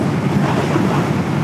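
Strong, blustery wind after a cold front, with steady gusts buffeting the microphone as a dense, continuous roar that never lets up.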